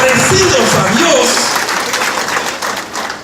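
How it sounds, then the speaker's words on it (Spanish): A church congregation at a Catholic charismatic evangelization gathering bursts into loud, sustained clapping, the dense applause strongest at first and gradually easing. A voice sounds briefly near the start. "Den un aplauso al Señor."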